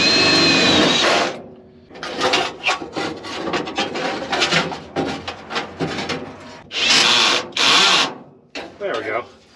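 A power drill drives self-tapping screws into a truck floor, with repeated short whirring and grinding bursts separated by brief pauses. It stops and starts irregularly, loud and close.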